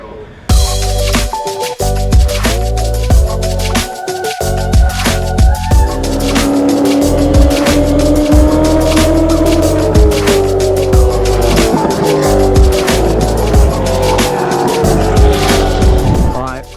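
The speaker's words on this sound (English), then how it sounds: "the speed that the cars carry around into that first corner. It's insane when they touch the brakes and they send it in." Supercars race into the first corner at Sydney Motorsport Park, loud engines roaring and shifting close by with tyre squeal as they brake, a continuous racing din with a person talking over it.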